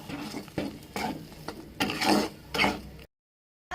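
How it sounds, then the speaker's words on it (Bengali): A spoon scrapes and stirs salt and sugar into a pea filling for Bengali kochuri, several rhythmic scraping strokes over a light sizzle, close up, ending in a short silence. "একটু নুন দিলাম, চিনি দিলাম, এটা দিয়ে ভালো করে নেড়ে নেব।"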